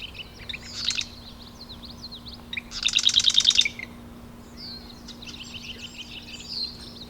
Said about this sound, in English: I'm in front of a spot with a bunch of marsh wren.